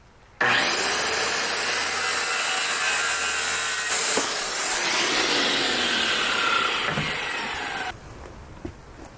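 An improvised table saw rips through wooden window trim in one long, loud, steady cut lasting about seven seconds, starting abruptly and then winding down, with no voices.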